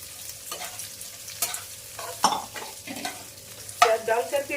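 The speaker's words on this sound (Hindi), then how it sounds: "प्याज डाल करके इसको हल्का सा भून लेते हैं।" Chopped onions sautéing with bitter gourd in a pan, a soft sizzle under repeated scraping stirs of a spoon against the pan, close by.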